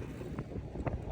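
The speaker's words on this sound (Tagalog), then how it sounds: "pasensya na po sa hangin at medyo malakas talaga ang amihan dito" Strong northeast monsoon wind buffets the microphone on a route between Occidental and Oriental Mindoro, a loud continuous rumbling roar with gusty swells and no speech.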